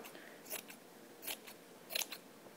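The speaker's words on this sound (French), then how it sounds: "on coupe dans le tissu, dans la longueur, pour avoir" Scissors cutting lengthwise through fabric to make a long strip, three or four faint crisp snips spread across a quiet background, close but soft with no talking.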